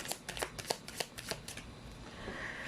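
A deck of cards being shuffled close up, a quick series of riffling snaps and flutters for about two seconds, then settling into quiet handling noise.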